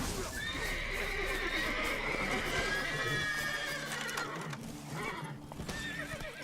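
A horse in The Witcher 3 video game gallops with steady, continuous hoofbeats while loud neighs and whinnies ring out over the top, all close and prominent.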